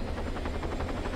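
A video game helicopter whirs with a steady low rotor throb and rapid rhythmic blade chop, constant and moderately loud, with no talk over it.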